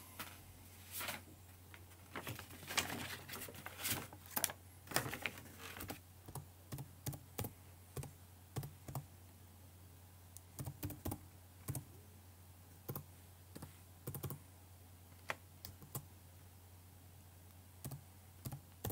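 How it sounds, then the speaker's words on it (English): Typing an email address on a computer keyboard, close clicky keystrokes in quick irregular bursts with short pauses between, over a faint steady hum, no talking. "Type our user's email."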